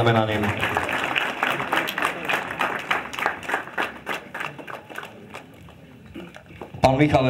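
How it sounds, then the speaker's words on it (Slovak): An audience claps for honorees at a ceremony blessing new fire engines in Turzovka, a steady loud round that gradually thins and fades, with voices over it and a fresh burst of clapping at the very end. "Áno, patrí potlesk týmto vyznamenaným."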